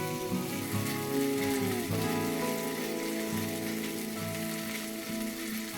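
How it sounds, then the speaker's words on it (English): Green chilies and Kashmiri red chili paste sauté in hot oil with a continuous crackling sizzle, close and steady, mixed with some background tonal hum. "We'll saute for about 30 seconds and allow the oil to absorb that rich red color"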